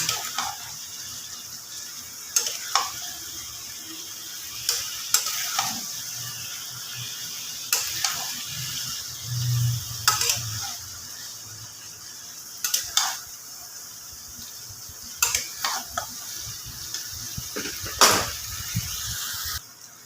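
Chicken kosha is stir-fried in a pan with a little water, low bubbling sizzle beneath repeated clanking, scraping spatula strokes spread across the stretch, close and without speech.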